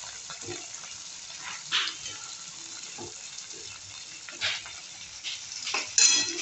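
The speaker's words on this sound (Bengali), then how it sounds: "এটা একটু নেড়ে আমি এতে পাওভাজিটা দিয়ে দেবো।" Pav bhaji fries in a pan while a spatula stirs it, giving a faint, steady low sizzle broken by a few soft scraping strokes, close but quiet, with no talking.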